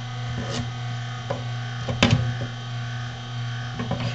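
Omega 8003 juicer running while juicing beets, a steady low motor hum with intermittent knocks and crunches as pieces are fed in, one sharper thud midway.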